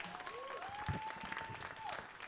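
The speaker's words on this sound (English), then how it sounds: "Give yourselves a round of applause" An audience claps together at a poetry reading in a library, with a steady wash of applause lasting a couple of seconds and a thin sustained tone running through it.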